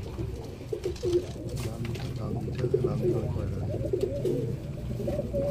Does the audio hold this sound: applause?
no